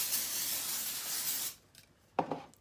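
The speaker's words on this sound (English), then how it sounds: "Hit it with some texturizing spray." Texturizing hair spray is sprayed onto short, freshly waved hair: a steady, close hiss for about a second and a half, then brief faint rustles and a short second puff near the end.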